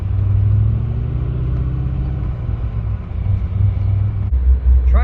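Chevrolet C6 Corvette pulling away on snow-covered ground, a deep engine rumble that swells and eases under load, followed by a brief higher rev near the end.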